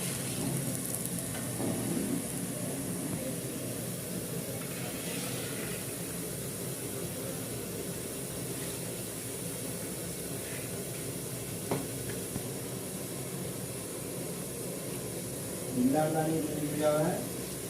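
Boondi batter drops into hot oil in a catering-size batch made from 3 kg of flour, giving a steady close sizzle and hiss with a few stirring scrapes while people talk over it.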